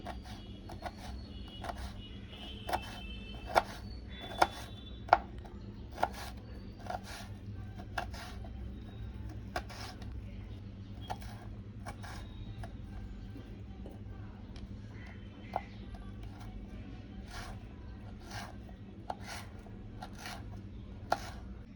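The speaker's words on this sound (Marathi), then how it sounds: "मी आता कैरी पातळ चिरून घेते." Knife thinly slicing raw green mango on a board, a steady series of crisp, close taps spread through the clip, some sharper than others, over a low background hum.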